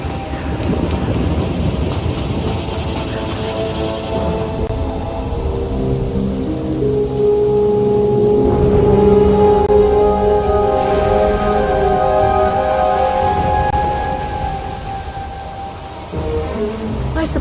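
A rainstorm in the Star Wars: The Old Republic game, with steady heavy rain pouring over a low rumble of thunder and wind, while a tonal musical drone hums underneath.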